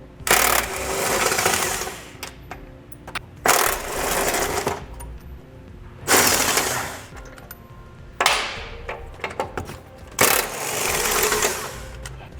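A power impact tool loosens 21 mm hitch bolts on a 2017 Jeep Grand Cherokee frame rail. It fires in about five loud, rattling bursts of a second or so each, separated by short pauses and small metallic clinks, with no one talking.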